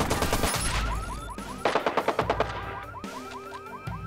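Rapid bursts of gunfire from the video game Watch Dogs crack in quick, evenly spaced volleys, loud and close, with trailing echoes and electronic game effects mixed in.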